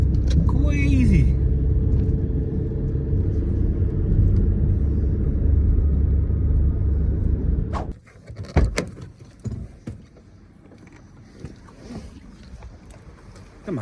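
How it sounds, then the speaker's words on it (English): A Mazda car drives along, giving a steady low engine and road rumble for several seconds, then the sound shifts to scattered knocks and lighter noise as it slows or stops. "The Mazda is working perfect again."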